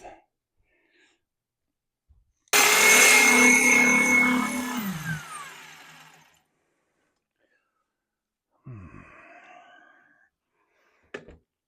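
A power drill with a freshly sharpened bit bores loudly for a few seconds, its whine falling as it slows and stops, followed by quiet, a brief scraping, and a sharp click.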